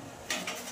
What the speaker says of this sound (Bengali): এরপর আমরা ঢেকে দেব।